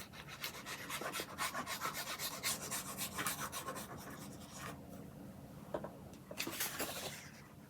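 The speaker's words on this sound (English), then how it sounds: "As you fold, one flap goes in, one flap goes back" Paper flaps of a handmade mini journal being folded and creased, giving repeated dry rubbing and rasping strokes, close and fairly quiet, with a short pause before a few final creases.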